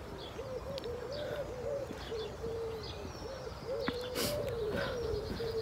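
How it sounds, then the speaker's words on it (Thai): Birds calling outdoors around a school during term break, with repeated cooing, hoot-like notes in a steady series against a constant hiss of background ambience, fairly faint and distant, with a brief sharper chirp near the end. "เสียงนกร้องได้ยินไหม"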